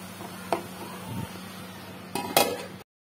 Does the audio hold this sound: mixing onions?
yes